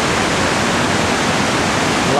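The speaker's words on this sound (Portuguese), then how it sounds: "lá nesse ponto, que é na beira dessa cascata aqui" Iguazu Falls roars on the Argentine lower trail, a dense, steady wash of falling water heard up close at the edge of a cascade, unbroken throughout.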